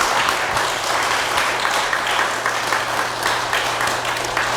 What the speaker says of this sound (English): So maybe just a round of applause.